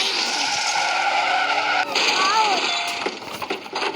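Tires squeal as a car skids in a driving video game, a loud, steady screech that breaks at the midpoint into rising engine whines and sliding chirps before tapering off.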